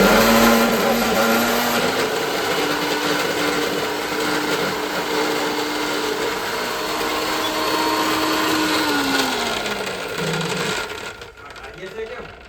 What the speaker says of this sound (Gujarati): મિક્સર ચાલુ કરવું છે